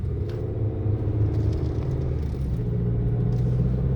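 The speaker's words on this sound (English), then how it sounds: "Yes, there is road noise with these tires" Steady low road rumble from off-road tires on a 2023 Chevy Colorado driving at night, a continuous droning hum inside the cab with no talking.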